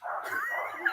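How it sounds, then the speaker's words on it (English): A dog lets out a single short, whiny yelp or bark, fairly close and clear, ending in a sharper high note with no talk over it. "Do you hear my dog?"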